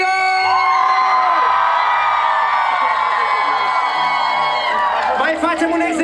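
A crowd at the Cluj Pride march shouts and yells loudly together in one sustained roar that swells and then breaks into scattered cheers and whoops.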